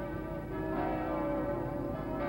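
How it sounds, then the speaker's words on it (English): Church bells ring out at the start of a ceasefire in wartime Vietnam, a dense, sustained wash of overlapping tolling tones filling the air steadily without pause or voices. "Church bells rang."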